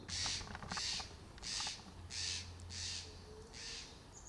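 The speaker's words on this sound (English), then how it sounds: "We have a squawking bird." A crow-like bird squawks in a run of six harsh, evenly spaced caws, fairly close and loud, over a steady low outdoor hum at a disc golf course.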